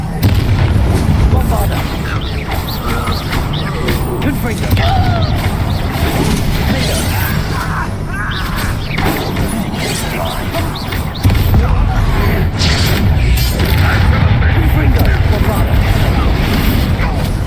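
Confringo fire spell explosions in Hogwarts Legacy, a run of loud booming blasts and crashes amid continuous battle noise, close and dense throughout.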